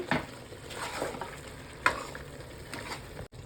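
Mutton stirred in a pan with ground cinnamon, clove, coriander and pepper, close spoon scrapes and bumps over a soft sizzle, a few distinct strokes alone.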